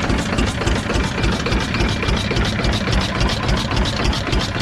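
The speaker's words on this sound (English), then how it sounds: "This is 7-horse V8 diesel, made by Hercules." A Hercules 7 hp diesel engine runs steadily at an engine show, with a dense, even chugging throughout, loud and close with no talk.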